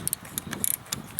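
A ratcheting tool tightens an old belt, giving a short run of close, crisp clicks and mechanical ticks in irregular bursts, with no talk.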